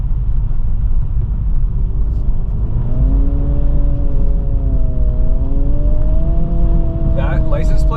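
A 2023 Acura Integra's engine blips and climbs in pitch on a downshift over a constant road rumble heard from inside the car, with a brief voice near the end.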